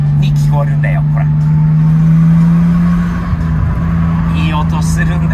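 A Mitsubishi Eclipse from the Fast & Furious films, its engine and exhaust giving a steady, loud, close drone with a sustained low hum throughout, while people talk over it.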